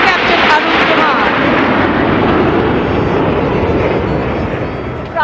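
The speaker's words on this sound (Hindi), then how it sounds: "की नई मिसाल कायम करते हुए कर्तव्य पथ के ऊपर से वायु विचरण।" Military aircraft make a Republic Day flypast over Kartavya Path, a loud, sustained jet roar that holds steady and eases slightly near the end.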